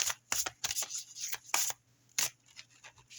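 Tarot cards shuffled by hand for a reading, a run of crisp riffling bursts and soft slaps in an irregular rhythm, close and fairly quiet with no talk.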